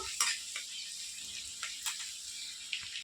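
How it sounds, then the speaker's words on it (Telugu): Finely chopped garlic frying in hot oil for meal maker manchurian, a quiet steady hiss with a few light clicks of a spoon against the pan. "ఇది ఓన్లీ గార్లిక్ ఫ్రై అవుతున్నాయి కదా"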